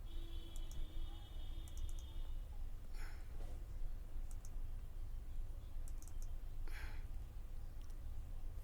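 Several quick pairs of sharp, faint computer mouse double-clicks sound at intervals over a low steady background hum, with no talking.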